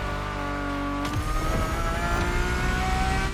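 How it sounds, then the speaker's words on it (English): Ferrari F50 with a normally aspirated Formula One–derived V12 in The Crew Motorfest, revving loudly and continuously close up, pitch dropping at a gear change before climbing again with a steady, high harmonic whine. "The F-50's core is a normally aspirated V12 that came straight from a Formula One"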